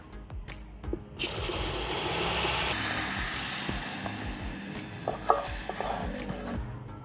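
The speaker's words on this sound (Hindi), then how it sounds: "अब हम इसमें पानी डालेंगे।" Water poured into a pan of sizzling spice masala with turmeric, red chilli, black pepper and salt bursts into a loud hiss and steady sizzle that lasts several seconds, with stirring clinks, close and without talk.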